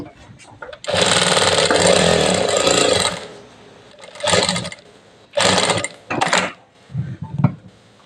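A Jack A2B auto-cutter sewing machine runs in loud, fast mechanical bursts: one long stretch of stitching, then several shorter runs separated by pauses.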